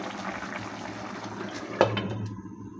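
Small fish curry simmering at a rolling boil in a pot, a soft steady bubbling and hiss with one sharp clink partway through before it quiets.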